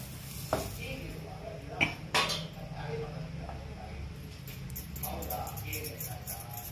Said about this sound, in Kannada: ಎಣ್ಣೆ ಕಲಿಬೇಕಲ್ಲ ಹಿಟ್ಟಲ್ಲಿ, ಹಾಗಾಗಿ ನೀಟಾಗಿ ಅದನ್ನ ಮಿಕ್ಸ್ ಮಾಡ್ಕೋತಾ ಇದ್ದಾರೆ